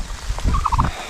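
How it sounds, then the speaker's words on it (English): A mother turkey on a farm in Hawaii gobbles in a quick burst of rapid warbling notes, close and loud, amid outdoor rustling during stormy weather. "That's the mom turkey."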